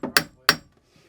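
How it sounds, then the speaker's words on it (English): Hammer strikes on a socket while pulling a boat propeller: two sharp, close metallic blows about a third of a second apart, followed by faint rattling. "I can hammer on that."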